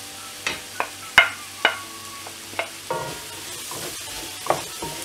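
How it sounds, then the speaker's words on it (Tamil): Onions frying in a pan for Kerala-style meen pollichathu, a steady sizzle broken by several sharp scrapes and knocks of stirring, close and fairly loud, with no talk. "வெங்காயம்லாம் நல்லா வதங்குற அளவுக்கு நல்லா ஃப்ரை பண்ணணும்."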